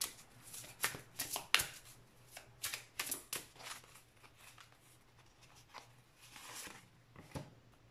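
Oracle cards being handled and laid out make soft, close riffling and slapping sounds in quick irregular clusters, quiet and without speech.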